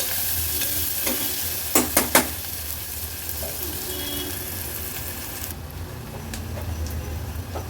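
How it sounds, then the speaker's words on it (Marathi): Chopped onion cooking in a pan over a medium gas flame, a steady soft sizzle throughout with a few sharp stirring clinks near the start. "गॅसची फ्लेम मीडियम करून आपण हा कांदा शिजवून घेणार आहोत।"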